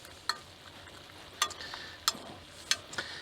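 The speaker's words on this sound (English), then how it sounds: "we'll just kind of give that a little bit of a stir" A spoon scrapes and clinks against a pot of pulled pork cooked in a van, giving four or five soft metallic taps over a faint sizzle with no voices.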